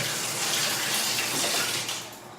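Steady, close rush of water running from a tap over hair being conditioned during a home hair treatment, continuous and fairly loud, easing off slightly at the end.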